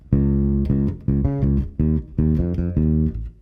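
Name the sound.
bass guitar playing bar 4 of a funky riff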